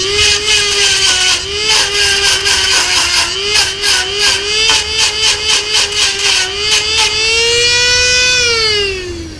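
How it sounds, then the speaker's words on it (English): A grinding wheel smoothing the cut edge of a metal gate, a loud steady whine with pulsing pressure changes as the wheel bites, rising in pitch near the end when it spins freely. "After you get it cut off, then use the grinding wheel to smooth it."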